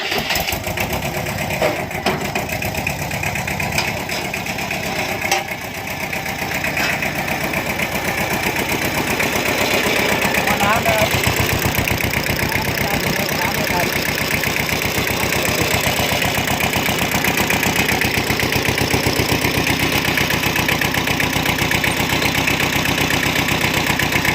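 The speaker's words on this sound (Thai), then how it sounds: "ก็มาสตาร์ทเครื่องดูเครื่องยนต์กัน" A Kubota L1511 diesel tractor engine with about 969 hours running at a steady idle, loud and continuous with a rough mechanical rattle throughout; no voices.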